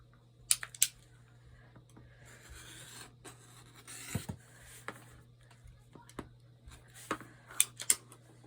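Scissors trim quilting fabric for a Lily of the Valley block in a series of sharp, close snips and rustles over a steady low hum.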